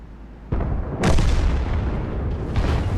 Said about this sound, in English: And artillery hit him.